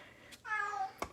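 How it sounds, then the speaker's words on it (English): A house cat on a diet meows indoors, a single drawn-out, nasal meow that rises and falls. It is soft and fairly close, with a couple of faint clicks on either side. "I'm sorry my cat is meowing"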